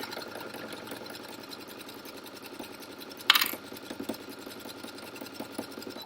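A sewing machine stitching a homemade winter neck gaiter runs in a fast, even chatter of needle strokes, with a brief sharp click partway through before the steady stitching carries on.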